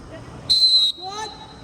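A referee's whistle blows loudly during an amateur league football match, one sharp sustained shrill blast lasting about half a second, followed by a softer trailing tone over background crowd chatter.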